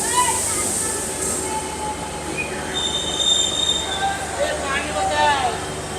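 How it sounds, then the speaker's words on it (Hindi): A Nepali passenger train pulls into Khajuri railway station, its wheels squealing in long high whines over a steady rumble of moving carriages, with some talking underneath. "अभी अपनी ट्रेन पहुंच चुकी है खजूरी रेलवे स्टेशन।"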